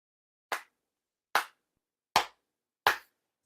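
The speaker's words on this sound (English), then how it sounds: "4 sincere claps along with the head officiant" Four sharp ceremonial hand claps ring out one by one at a Shinto shrine ceremony, evenly spaced and loud against silence, made together with the head officiant during a monthly Tenchi Kane no Kami service.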